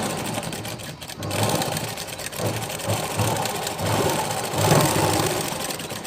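A sewing machine runs steadily, top-stitching a joined seam on fabric, its motor whirring close and continuous with slight surges in speed and no talk.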